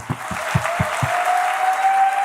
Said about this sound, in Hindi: तो चाचा जी के लिए जोरदार ताली एक बार।